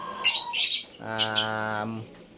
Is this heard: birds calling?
yes